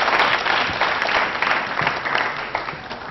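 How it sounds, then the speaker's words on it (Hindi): A room full of people clapping steadily, a dense, loud wash of applause that holds throughout without any voices standing out. "तालियां बजाइए सम्मान के रूप में ऐसे लोगों के प्रति।"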